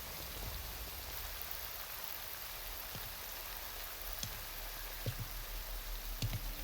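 Steady rain falls throughout a jungle scene in Metal Gear Solid Delta: Snake Eater, a dense, even hiss with a few soft drips and thuds near the end and no voices.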